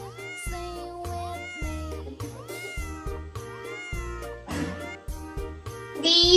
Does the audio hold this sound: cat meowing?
yes